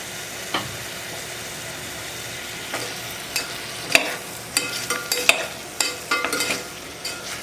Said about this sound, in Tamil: ஒரு 3லேருந்து 4 நிமிஷம் நல்லா ஃப்ரை பண்ணுங்கள்.